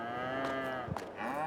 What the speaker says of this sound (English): Got a window here. You can see the cows.